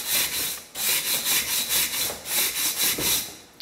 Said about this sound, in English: knock off any of that big rust, and then I take a wire brush